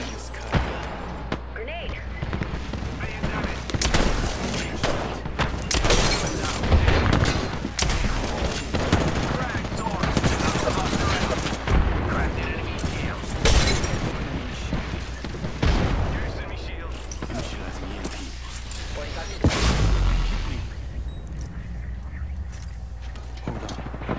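Repeated bursts of gunfire and explosions in the battle royale shooter Apex Legends, dense and loud throughout with near and distant shots, talk mixed in.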